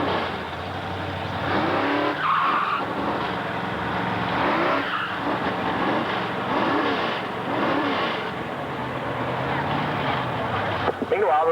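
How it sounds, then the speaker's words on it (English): A 1967 Camaro drag race car with a 454 cubic inch engine rumbles steadily at Motion Raceway drag strip, its engine noise running throughout beneath a man's continuous announcing. "It's a 1967 Camaro with a 454 cubic inch engine."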